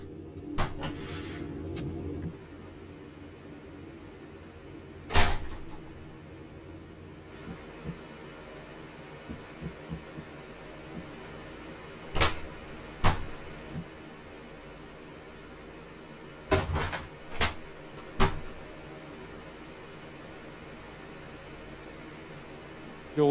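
Train cab doors in Train Simulator slam shut in a series of sharp, brief thuds and clicks, a single one near the start and then clusters of two or three later, over a quiet low hum.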